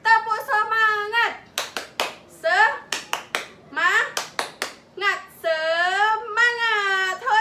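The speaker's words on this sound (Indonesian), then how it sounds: "Tepuk semangat." Children and a teacher in a classroom doing a rhythmic clap chant, sharp group hand claps in quick sets alternating with chanted voices, loud and close.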